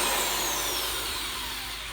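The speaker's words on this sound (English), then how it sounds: "That's probably the cleanest hole that I've ever drilled" A power drill boring a hole through an arcade cabinet panel, a steady high-pitched whine that holds evenly and fades slightly at the end.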